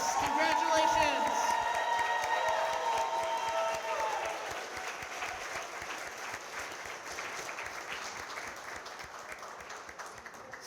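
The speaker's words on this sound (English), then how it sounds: "Let's give everybody one more round of applause." Audience at an adult degree program honors and graduation ceremony claps warmly for the graduates. Dense, sustained applause with a few whoops opens over a brief voice and tapers gradually as it continues.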